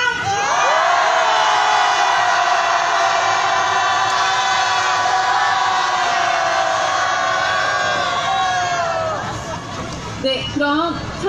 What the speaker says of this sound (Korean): 일본 대사관을 향하여서 크게 5초간 함성을 지르고 수요시를 끝내도록 하겠습니다.